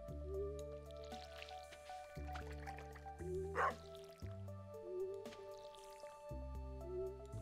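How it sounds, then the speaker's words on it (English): Watering crops with a watering can in Stardew Valley: soft repeated splashing and dripping bursts over steady looping background music, fairly quiet and evenly spaced. "I'll just water up this section here."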